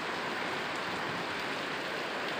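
Heavy, steady rain drumming on a tin roof during a storm, a continuous hiss with no pauses.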